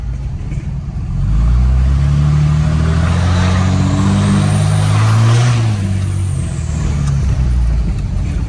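A lifted Ram 2500 Mega Cab diesel truck with a new intake revs loudly nearby, a deep rumble swelling into a sustained rev with a faint whistling whine on top, then holding steady as it tapers.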